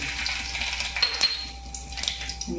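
Mustard seeds dropped into hot oil in a pan sizzle brightly, with a few sharp spattering pops and light clinks of a metal ladle against the vessel, close and clear with no talking.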